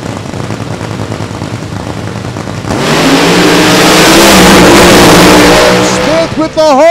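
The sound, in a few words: funny car drag racers launching down the track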